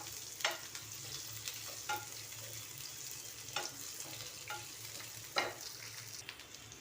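Potato pieces fry in a pan for potato bhaji, a steady close sizzle broken by several sharp scraping stirs of a spatula at irregular intervals, with no voices.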